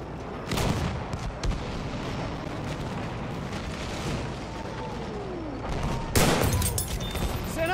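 Machine gun fire and explosions in the video game Battlefield 1 roll through a noisy battlefield, with dense bursts and booms, a loud blast near the end, and a faint whistling sweep in between.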